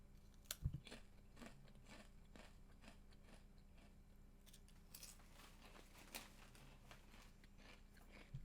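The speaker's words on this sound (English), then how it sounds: "Don't mind me. I'm munching." A person munching food, with soft, faint crunching and chewing clicks scattered through a quiet room and a sharper crunch near the start.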